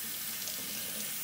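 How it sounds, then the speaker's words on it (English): Tap water runs steadily over a wig being rinsed, a close, even rushing hiss that fills the whole moment without any talk. "having the water go down the hair shaft"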